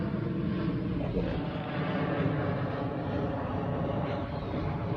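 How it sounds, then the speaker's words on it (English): A low, steady engine drone of an airplane passing overhead, a broad rumbling hum that holds evenly with slight swells, moderately distant. "Hold on, I got an airplane."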